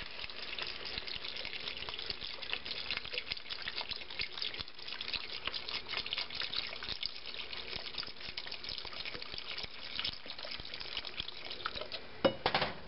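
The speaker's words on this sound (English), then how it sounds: "pour in enough of the stock to just cover the potatoes" Chicken stock pours into a pot of potatoes as a steady, low, continuous liquid wash with faint splashing and no talk.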